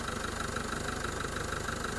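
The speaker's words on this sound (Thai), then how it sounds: "นี่ครับสตาร์ทเครื่องไว้เรียบร้อยดูเครื่องนะฮะ" An Isuzu D-max Hilander Cab 1.9 L diesel engine idles at close range, a steady rhythmic clatter and hum with no voices over it.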